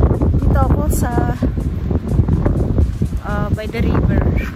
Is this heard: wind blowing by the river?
yes